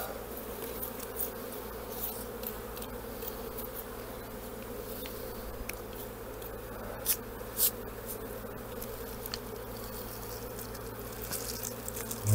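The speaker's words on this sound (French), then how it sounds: "Alors maintenant, il y a des abeilles partout." Dense, continuous buzzing of many honeybees close around a hive, a steady drone with occasional louder passes and a few soft clicks.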